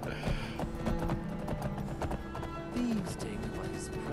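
In the Skyrim video game, a horse gallops with rapid repeated hoof clip-clops and a brief whinny, close and steady, while someone talks over it.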